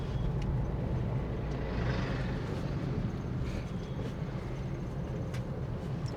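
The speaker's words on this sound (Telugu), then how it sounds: "ఫుల్ ట్రాఫిక్ ఉంది ఇక్కడ." Road traffic at school closing time, heard from inside a car, makes a steady low engine and road rumble with faint passing vehicles.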